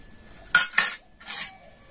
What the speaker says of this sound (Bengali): তো এই ব্রাশে করে এই বাটিটা কিন্তু চারিধারে খুব ভালো করে সাদা তেলটা লাগিয়ে দেব।